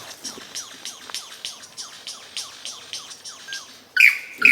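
A lyrebird sings alone in a steady run of repeated, sweeping whistled notes at moderate volume, then ends with two louder, harsher bursts of mimicry.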